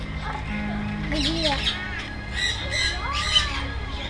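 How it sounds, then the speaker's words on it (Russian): A parrot at a small petting zoo on Koh Samui squawks in several short, harsh bursts amid close chatter from people nearby. "Смотрите, неизвестный попугай!"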